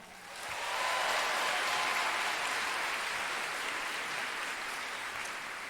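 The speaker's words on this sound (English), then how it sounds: "Can we give another round of applause for the talented student designers and models?" Applause at a student fashion show swells up within the first second into a full, even wash of clapping from a large audience, heard at a moderate distance and sustained without talk.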